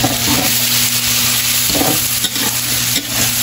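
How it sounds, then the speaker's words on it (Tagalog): Carrots and other vegetables sauté in a pan with steady stirring and a continuous close sizzle, with a few louder scrapes of the utensil against the pan. "Ginigisa na po nila yung, ilalagay na po natin yung carrot, saka po yung sagulay."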